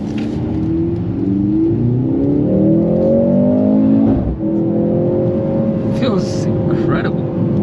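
A 2023 Mercedes-AMG C43 sedan drives along, its engine note rising through the gears in steady pulls, loud and close from inside the cabin, with people talking over it.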